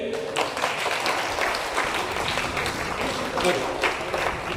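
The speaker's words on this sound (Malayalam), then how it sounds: "നല്ല കൈയടിച്ച്." Students clapping together in a career guidance classroom, a sustained burst of many hands applauding at close range, mixed with voices talking over it.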